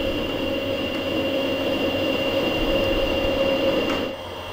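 A metal lathe turning at 34 RPM takes a light scratch pass while cutting a 2 TPI two-start thread, giving a steady close droning hum with a thin constant whine and no talk.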